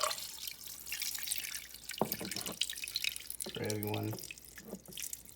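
Water trickles and drips gently into an aquarium tank during aquascaping, with soft splashes and a brief bubbling burst, under a man's speech.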